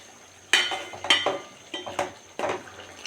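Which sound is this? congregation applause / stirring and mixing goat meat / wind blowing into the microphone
stirring and mixing goat meat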